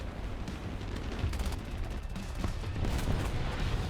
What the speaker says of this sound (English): Imagine he blew himself up too. Because he flew too close to the explosion.